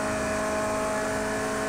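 A Ferrari 288 GTO's engine drones steadily at high revs while racing around the Mugello circuit in a VR racing simulator, a loud continuous tonal whine with no gaps or pauses.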